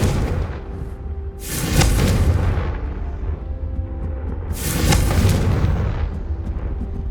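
A Confringo blasting spell in the Hogwarts Legacy video game sends out two loud, booming explosions a few seconds apart, each a broad roaring burst that decays into a rumbling tail over a continuous low game background.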